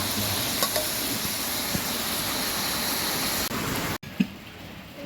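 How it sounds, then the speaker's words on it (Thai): Pork belly and cabbage stir-fry in a hot pan at home, making a steady, close sizzle that runs without a break before cutting off near the end. "เมนูเย็นเราวันนี้คือ สามชั้นผัดกระลำปีครับ"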